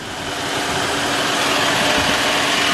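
A 2009 Chevy Malibu LTZ V6 idles steadily up close, a continuous smooth engine hum with a faint broadband hiss and no voices.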